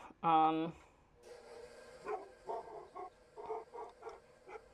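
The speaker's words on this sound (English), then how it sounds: "there's Max barking" One short, sharp dog bark rings out at the start, followed by a person speaking quietly in a room.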